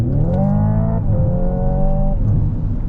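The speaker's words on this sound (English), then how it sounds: "if I shift all the way up, I'm in 8th gear, and I hit the throttle, it bogs down like a regular ICE engine" Simulated combustion-engine sound from a Hyundai Ioniq 5N electric car held in 8th gear under full throttle, a loud steady droning hum that bogs down and sags in pitch, then holds a lower strained tone with no talking.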